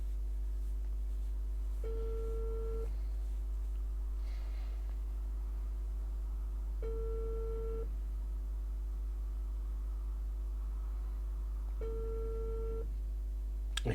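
Telephone busy signal as a call fails to connect: three separate steady tone bursts, each about a second long, spaced several seconds apart over a constant low hum.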